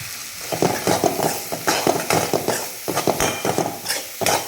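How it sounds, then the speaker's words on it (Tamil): Bell pepper rice masala seasoned with sambar powder and salt sautéed in a pan, giving a steady sizzle broken by repeated scraping and stirring strokes of a spoon against the pan, close and alone. "எல்லாமே போட்டுட்டு கொஞ்ச நேரம் நல்லா அந்த பச்சை வாசனைலாம் போகிற வரைக்கும் கொஞ்சம் நேரம் வதக்கிடுவோம்."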